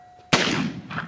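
A single loud shotgun blast fired at a clay target on an outdoor range, a sharp crack followed by a broad, sustained rumbling decay; no voices.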